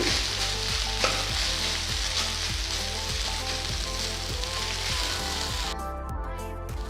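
Hot cooked rice stirred in a sizzling pan, a dense steady frying hiss with regular scraping strokes of a spatula, close up and without speech, ending abruptly.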